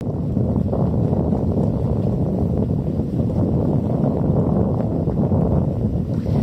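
A sailboat under sail on the last day of the season, with steady, continuous wind and water rush close to the microphone, a broad low roar with no talking.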